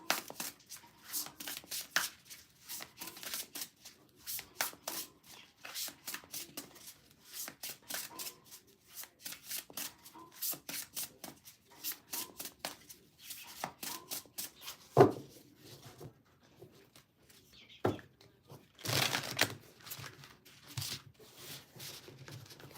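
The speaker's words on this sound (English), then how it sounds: "All right, one more shuffle, and then I'm just going to pull 6." A deck of tarot cards is shuffled by hand up close, bursts of fast riffling and card flicks with brief pauses and one louder snap, no voices.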